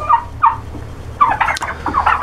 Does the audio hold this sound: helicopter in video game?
no